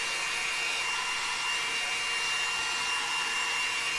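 A heat tool blows steadily to dry a VersaFine Clair ink background, a loud constant close-up whooshing hiss with a thin high whine running through, uninterrupted and with no voices.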